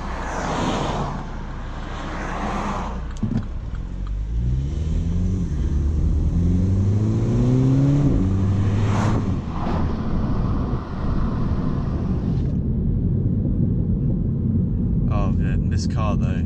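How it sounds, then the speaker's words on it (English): A 2018 MINI Cooper S engine revs up through rising gear sweeps, its exhaust crackling and popping, loud and close from inside the car amid road rumble. "This car though, delivers so many pops, it's amazing."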